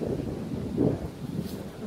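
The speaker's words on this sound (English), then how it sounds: "Wind is crazy bad." Strong wind gusts buffet the microphone outdoors in Indiana, a steady low roaring rumble that swells briefly near the middle.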